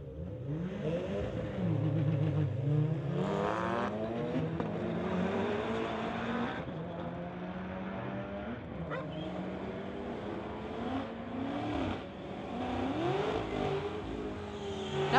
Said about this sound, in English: We've got Amrit in the pit side, 2007 Subaru, going against Aaron from Aldergrove, Boost Barn Motorsports, his 2006 Subaru